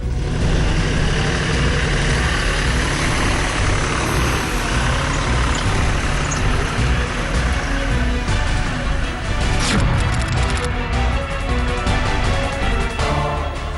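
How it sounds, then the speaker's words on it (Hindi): In rural India near Delhi, a tractor is driven over a farmer's crop field, its engine giving a loud, continuous diesel rumble and clatter that swells slightly partway through. "तो उन्होंने अपनी मेहनत पर ट्रैक्टर चला डाला"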